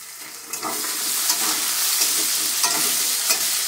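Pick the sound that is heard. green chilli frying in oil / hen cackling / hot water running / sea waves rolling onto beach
green chilli frying in oil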